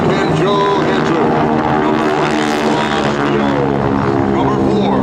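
GEICO Skytypers vintage propeller airplanes fly past at the 2011 NAS Patuxent River air show, making a loud, continuous droning engine roar, with an announcer's voice mixed into the sound.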